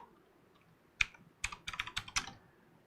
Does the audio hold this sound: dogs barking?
no